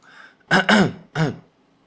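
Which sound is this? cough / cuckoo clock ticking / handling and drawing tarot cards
cough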